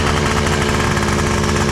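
An old two-stroke Polaris engine from a barn find, low on injection oil, runs loud and close with a rough, rapid, rattling idle that continues without a break.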